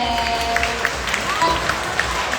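Theatre audience applauding after a youth drama club's stage performance, a steady wash of clapping from a crowd, moderately loud and continuous throughout with no clear break.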